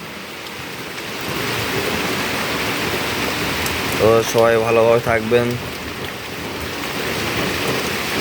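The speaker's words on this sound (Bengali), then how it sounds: "প্রচণ্ড বৃষ্টি হচ্ছে বাইরে বৃষ্টি যেমন তেমন মানে বাতাসটা বেশি ভয়ঙ্কর" Heavy rain and strong wind at night, a loud steady roar of downpour throughout, with someone briefly speaking over it midway.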